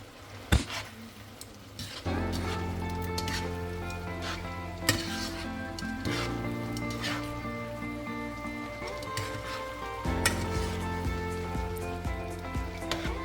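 Spaghetti being mixed into a seafood marinara sauce in a hot pan, with a steady sizzle under soft stirring and occasional clinks from the utensil, close and continuous.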